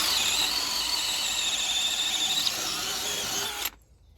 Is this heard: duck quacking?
no